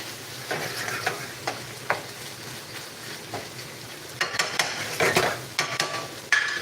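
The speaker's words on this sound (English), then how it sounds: "while I wait for that chicken to fry up, to crisp up a little bit" Chicken frying in oil with onion sizzles softly, with scattered scrapes and clinks of a utensil stirring in the pan, growing busier toward the end.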